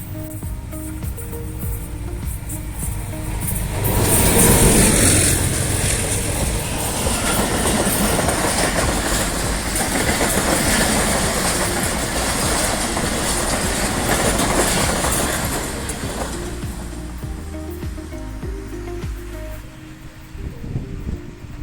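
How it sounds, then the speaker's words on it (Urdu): Passenger train passing through Mandra railway station in Pakistan, a loud sustained rumble that swells quickly with a brief high squeal, then long steady clickety-clack of wheels over rail joints, fading away near the end. "ٹرین آ رہی ہے"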